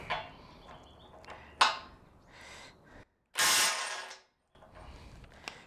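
DeWalt compact impact wrench loosening a nut: short mechanical bursts and clicks, with one loud, sustained hammering rattle of under a second, separated by quiet pauses.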